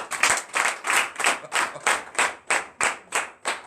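Rhythmic clapping from a church congregation during a night prayer service in a steady beat, about nine or ten sharp claps, loud and close, with no talking over it.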